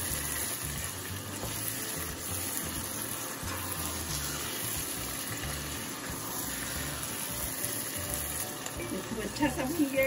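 Khara masala qeema, minced meat frying in a pan with green chillies and fresh coriander added, giving a steady, close sizzle and crackle throughout with some clatter of stirring.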